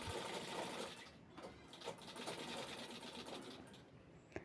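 A sewing machine stitches a round cloth piece for a thali cover, running steadily and fairly close for the whole stretch with a few brief pauses and speed changes, and no talk.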